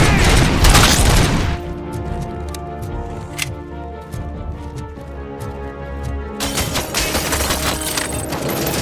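Gunfire from the RoboCop: Rogue City video game: a dense burst of shots opens the sequence, followed by a quieter stretch of scattered sharp reports over a steady low hum, then heavy firing returns toward the end.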